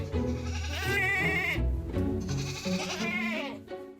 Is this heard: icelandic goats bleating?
yes